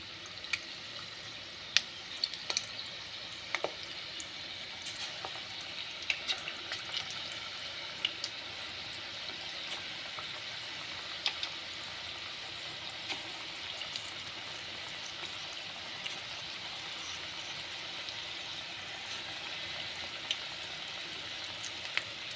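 Bonda batter dropped by hand into hot oil, giving a steady close sizzle with scattered sharp crackles and pops throughout, no talking.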